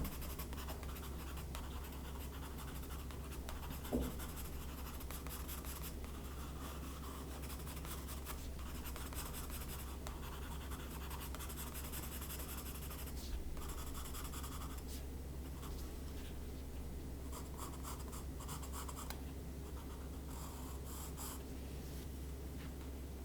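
Pen sketching trees on paper with short strokes, a faint continuous scratching and rubbing close by over a steady low hum, with no talk.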